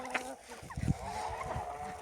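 Backyard poultry: a rooster among hens and geese. It gives short clucking and honking calls close by, under someone talking.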